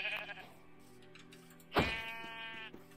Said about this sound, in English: There's a group of sheep right there.